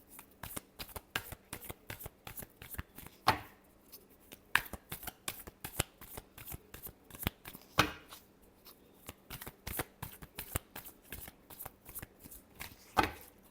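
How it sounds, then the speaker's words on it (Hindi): Tarot cards riffled and shuffled in repeated quick bursts of crisp, close slaps and flutters, with brief pauses between, alone and without talk. "last shuffle"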